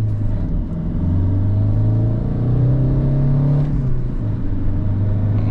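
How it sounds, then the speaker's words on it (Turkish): A Fiat Linea sedan with about 300,000 km on it pulls away from a traffic light, its engine droning and rising in pitch through the gears, heard steadily from inside the car. "Motor sesi vesaire çok güzel."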